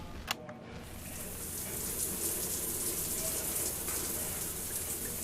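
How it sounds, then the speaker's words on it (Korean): A shower runs steadily in an apartment bathroom, heard as a constant broadband hiss of falling water that is moderately quiet and continuous, with a brief knock near the start. "(11분) 동안 샤워를 하는 소리."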